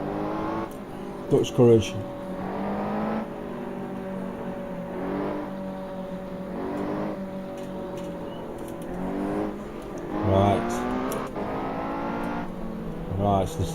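A Ferrari Challenge race car engine drones and rises in pitch as it accelerates, heard from inside the car with shifting harmonic whine, while a voice speaks briefly over it.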